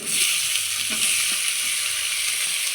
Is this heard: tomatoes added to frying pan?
yes